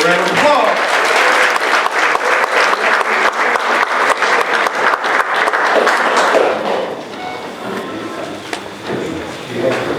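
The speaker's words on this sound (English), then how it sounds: "Let's give her a round of applause." A round of applause from an audience at a Dr. Martin Luther King Jr. awards event: loud, dense clapping that holds steady for several seconds, then thins out and fades as a voice starts speaking.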